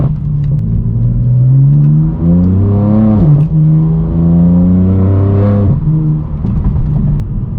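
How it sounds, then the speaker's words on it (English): A BMW M4 F82 with a loud, catless straight-pipe exhaust accelerates hard through the gears, its booming engine note rising and dropping at each shift, close and very loud with no talk. "your exhaust is literally going to be heard within 1 and sometimes even 2 miles"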